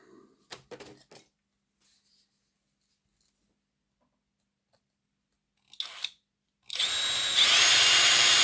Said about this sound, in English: Just put some oil on the drill.